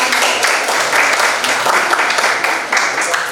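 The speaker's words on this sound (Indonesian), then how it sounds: "Tepuk tangan untuk" Applause from a classroom audience after a student group's presentation, a dense steady patter of many hands clapping close by, continuous for a few seconds.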